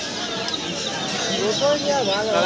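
Chickens cluck in short rising calls at a busy village poultry market near Chakdah bus stand that also sells native ducks and pigeons, mixed into continuous crowd chatter and voices.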